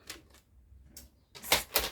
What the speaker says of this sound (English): Just grab your paper trimmer.